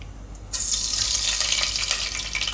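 Mustard seeds drop into hot oil for a Gujarati rasiya muthiya dish. After a quiet moment, a loud, bright sizzle bursts up suddenly and keeps hissing steadily up close.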